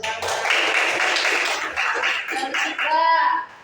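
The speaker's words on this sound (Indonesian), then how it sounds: "Oke, tepuk tangan." A classroom of pupils claps hands together in a dense, lively burst lasting a few seconds. Children's voices rise toward the end as the clapping fades.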